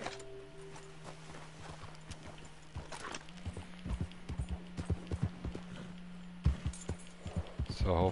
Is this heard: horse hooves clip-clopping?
yes